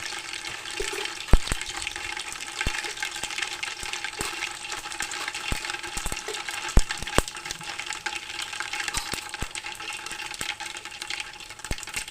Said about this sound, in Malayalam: ചട്ടി അടുപ്പത്ത് വെച്ച് എണ്ണയും കടുകും ഇട്ടെടുക്കുന്നത് പൊട്ടിയിട്ട് തുറന്നിട്ട് കൊടുക്കുക.